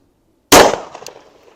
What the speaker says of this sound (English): This is shooting some 124 grain plus P out of it, and I believe it is the Remington Golden Saber